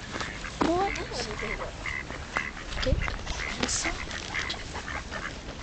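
Ducks at a pond quack in scattered short calls, some close and some farther off, over steady outdoor background noise, with a voice briefly speaking.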